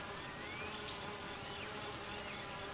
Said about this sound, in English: Watch the worker bees attending to the queen bee and feeding her